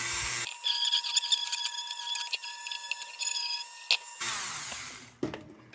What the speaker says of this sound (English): let me hit it with a little Dremel,